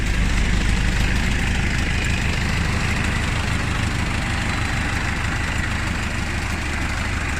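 Fortschritt ZT 303 tractor engine idling, a steady deep diesel rumble with continuous low throb, close and loud throughout with no talk.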